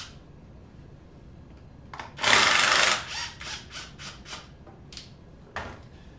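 An adjustable bevel gauge is set to 25 degrees in a woodworking shop, with a burst of scraping and rubbing followed by a run of short clicks and taps that fade to quieter knocks.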